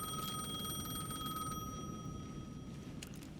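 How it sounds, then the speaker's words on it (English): A payphone at the edge of a plaza in a video game rings with a steady electronic bell tone. The tone runs continuously over a dense, rumbling background and fades slightly toward the end, with no talking. "The payphone at the edge of the plaza was ringing again."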